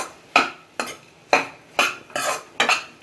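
A spoon stirring a ridge gourd mixture in a pan, making six sharp scraping knocks at a steady rhythm with short pauses between them, close and clear, with no speech.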